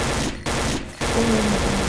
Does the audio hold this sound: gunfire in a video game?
yes